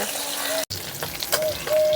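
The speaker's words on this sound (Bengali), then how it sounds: "এইভাবেই সবগুলো মাছ ভেজে নেব" Rui fish pieces fry in oil with a continuous crackling sizzle, briefly cut off once and then resuming with a few clinks of a utensil, while faint background noise hums along.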